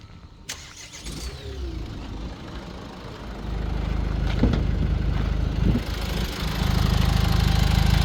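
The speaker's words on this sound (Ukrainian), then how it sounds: "Заведи на цього мотора. 130-ка. Мотор 130-ка. Заводиться з полтика." A Renault Master van's diesel engine cranks and starts, then settles into a steady, rumbling idle that grows fuller and louder toward the end.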